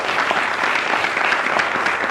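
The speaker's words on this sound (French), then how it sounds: "Et donc, applaudissez pour votre école." An audience claps for a school at a recorded show or event, a dense, even burst of applause heard close and loud throughout.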